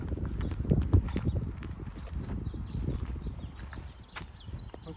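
Horse hooves clip-clop in a steady walking rhythm close by at a saddlery, with low rustling and handling noise throughout and no clear talk.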